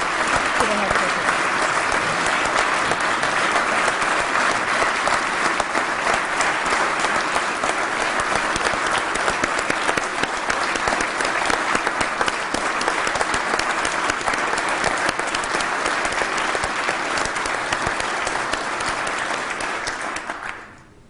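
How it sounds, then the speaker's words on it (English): Sustained, loud audience applause honoring healthcare professionals during a governor's State of the State address, dense clapping filling the hall for about twenty seconds before tapering off at the end. "Would you please give them a round of applause for all of their efforts"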